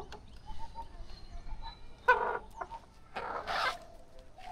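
Laying hens cluck in short, scattered bursts at a rooftop coop, with a couple of louder, nearer calls standing out over a quiet background.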